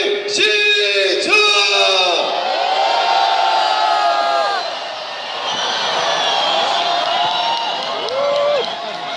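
Large street rally crowd shouting and cheering during a candlelight wave protest demanding Park Geun-hye's resignation, a loud sustained roar of many voices with whoops and yells rising and falling throughout.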